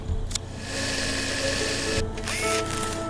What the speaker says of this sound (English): I can drill this.